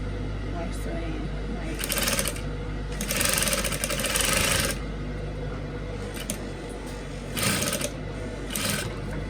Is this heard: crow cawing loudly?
no